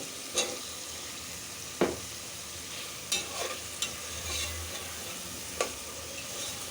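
Potatoes stirred and sautéed in a spice masala in a pan, with a steady low sizzle broken by a few sharp spatula scrapes and knocks. Fairly quiet, with no talking.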